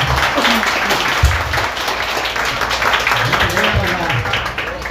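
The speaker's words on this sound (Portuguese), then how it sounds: "Pessoal, peço uma salva de palmas aí" An audience at a lecture during an animal exhibition gives a round of applause, steady clapping that continues throughout with voices talking over it.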